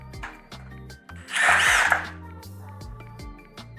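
Compact power driver spinning briefly to set a fastener, a close, rising whir lasting about half a second over a steady background hum.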